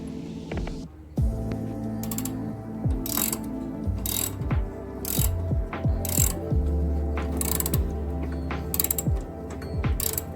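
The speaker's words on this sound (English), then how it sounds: "the only thing to do is use a big socket, a 24 socket, real big and annoying" A ratchet turns a big 24 mm socket to pop a ball joint during a front suspension overhaul. It gives close, steady rows of sharp clicking strokes throughout, with no talk.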